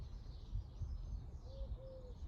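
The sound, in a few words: bird singing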